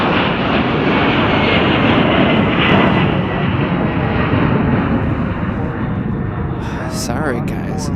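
A jet airliner roars loudly and steadily at Chicago O'Hare airport in cold weather, a broad continuous engine rumble that slowly fades near the end as a few faint clicks come through.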